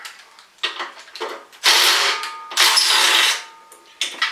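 A hand wrench working loose the 12 mm fuel tank bolt on a Honda FourTrax 300 ATV, heard as irregular close ratcheting clicks and metallic scraping bursts, some longer and louder, separated by brief pauses and no speech.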